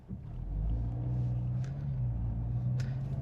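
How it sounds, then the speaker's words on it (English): A Volkswagen Golf GTI Clubsport pulls off a driveway gently, its engine giving a low, steady rumble heard from inside the car with faint clicks and knocks. "Let's just pull off the drive gently."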